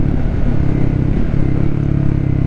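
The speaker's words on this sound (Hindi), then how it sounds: "Let's open the throttle a little bit." Triumph Speed 400 motorcycle engine running close up as the throttle opens slightly, a loud, steady, low rumbling drone with rapid firing pulses, heard from the rider's position with no talk over it.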